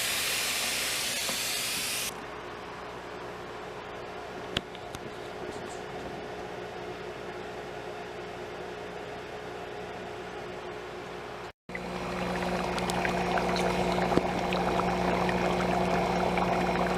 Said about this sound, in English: We're going to wet it nice and thoroughly and start the germination